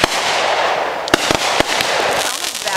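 Sharp firework bangs and crackling bursts from a July 4th display ring out, a few loud reports over a continuous hiss of smaller pops, with voices faintly mixed in.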